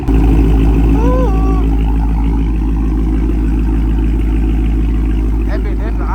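Straight-piped Dodge Challenger Hellcat Redeye with 5-inch Carven exhaust tips, its supercharged V8 heard close and loud as a steady deep rumble that swells into a rev, with excited voices talking over it.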